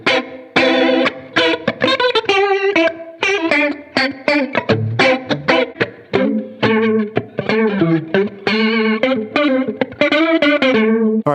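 Electric guitar through an iSet analog flanger pedal, loud and close, playing a busy run of notes with swirling chorus-like, slightly distorted sweeping tones and no talking.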